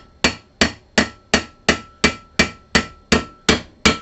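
A small hammer strikes a roll pin down into an Atari arcade joystick shaft, eleven sharp, evenly spaced metallic taps about a third of a second apart, close and crisp with short ringing decays, no talk.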